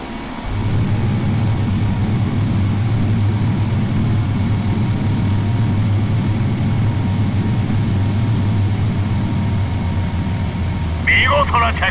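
A jet-powered aircraft lands at Edwards Air Force Base in Flight Simulator X. A steady, loud, low engine drone holds throughout with a constant whine on top, and a short burst of higher noise comes near the end.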